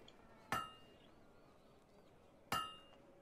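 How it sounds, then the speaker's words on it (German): Two sharp metallic hammer strikes on an anvil while smithing in the video game Fable 2, spaced about two seconds apart, each a bright clang with a ringing tail over a quiet background, no talk. "Perfekter Hammerschlag."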